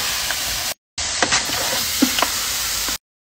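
Red meat searing in a pot for kabsa, a loud steady sizzle with a few clinks and scrapes of stirring, briefly cut by two silent gaps.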